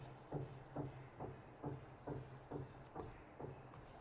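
Handwriting on a board, with regular scratchy strokes in a steady rhythm of about two per second, faint and close, with no talking.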